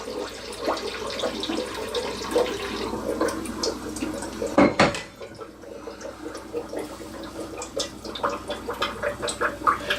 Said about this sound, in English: And now I'm going to pour my kombucha into this.